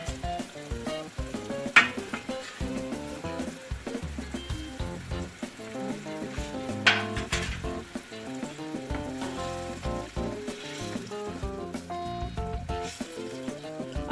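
Gram-flour khandvi pieces drop into a simmering curry that bubbles and sizzles steadily, with a couple of sharper clinks along the way.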